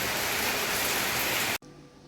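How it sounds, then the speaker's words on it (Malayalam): Heavy rain pours down in a loud, even hiss that holds steady, then cuts off abruptly just before the end. "പക്ഷെ എന്ത് ചെയ്യാം, പേരുമഴ."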